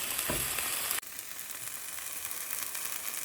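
Onion, ginger and garlic sauté in a pan, a soft, steady sizzle and crackle running throughout with a brief cut near the start, no voices.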